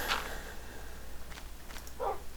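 A Minecraft wolf gives a couple of short, faint barks, separated by a quiet pause, over low background hiss.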